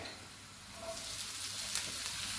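Ginger sizzling in a very hot wok for a stir-fried pork with ginger and spring onion dish: a steady, close, crackling hiss that swells slightly louder toward the end, with no voices.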